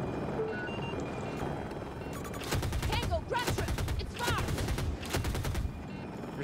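Rapid bursts of attack-helicopter gunfire in Battlefield 2042 rattle in repeated volleys over a steady rotor and engine drone, loud and close, with a player talking underneath.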